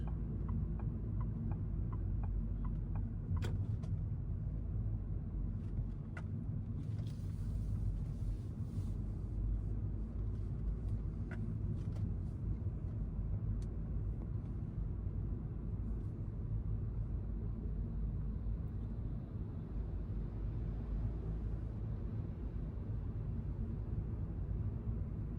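Evening traffic on King Fahad Road in Riyadh, heard from inside a moving car as a steady low rumble of engines and tyres with a constant road hum, no talking.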